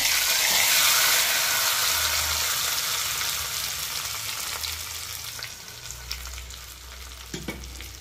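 Dal tempering of ghee and urad dal sizzles in a pan for Telugu cucumber dal, loud and continuous at first, then fading to a softer hiss with a low hum and a few clinks near the end.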